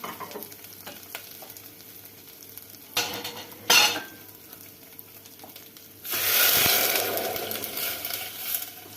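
Meat broth goes into a hot clay güveç pot of pea and tarhana soup. A few brief clatters come first, then a loud, sustained sizzling rush takes over halfway through and continues to the end.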